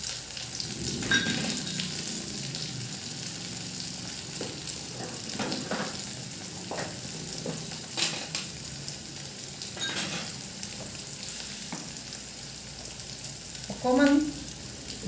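Ginger and three dried red chillies frying in hot oil in a home kitchen, a steady bright sizzle with occasional stirring clatter and a sharp scrape near the end.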